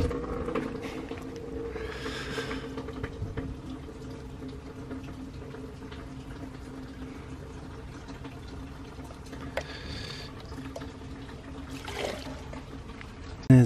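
Fertilizer-laced soaking water is poured gently over coriander seeds, giving a faint, continuous trickle and splash with a few louder surges of pouring, heard close with low room noise.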